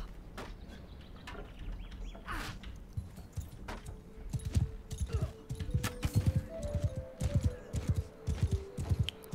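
A horse gallops during horse archery in Mount and Blade II: Bannerlord, its hoofbeats building into a steady rhythmic clatter that grows louder toward the end, with faint bird chirps in the background.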